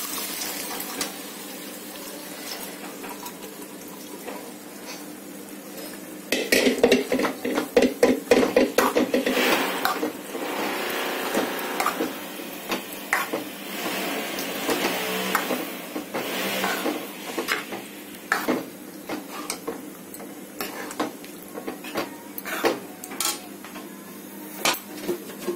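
Boiled urad dal and kidney beans tipped into fried masala in a cooking pot for dal makhani, a wet clatter of spoon against metal and sloshing liquid that starts abruptly and carries on in uneven scrapes and knocks, close and moderately loud.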